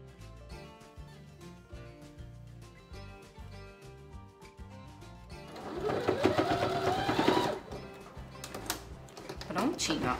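A sewing machine stitches a decorative wall panel, its fast rhythmic clatter running steadily and close, while someone talks over it and the mechanical chatter grows louder midway.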